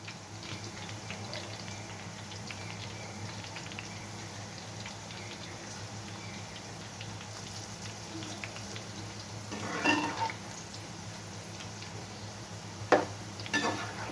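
Ivy gourd (dondakaya) pakodi fry in hot oil, giving a steady low sizzle and bubbling throughout, with a couple of soft clinks from a utensil near the end and no talk.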